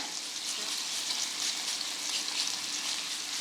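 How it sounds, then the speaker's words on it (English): A pound of cleaned, deveined and shelled shrimp cooking in a pan, giving a continuous soft, even sizzle throughout with no talking. "We're now going to cook a pound of cleaned shrimp, deveined and shelled."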